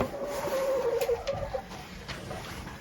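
Chickens in a wintry coop give low clucks and coos as they are pushed aside near a door, a steady murmur of fowl with a few scuffs, close but fairly quiet.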